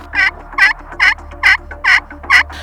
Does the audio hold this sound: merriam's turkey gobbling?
yes